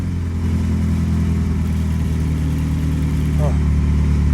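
A Suzuki GSX motorcycle engine idles steadily on old gas, a loud, close, continuous low drone with a brief mechanical chirp near the end, while someone talks over it.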